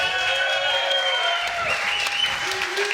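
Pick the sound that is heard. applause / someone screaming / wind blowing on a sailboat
applause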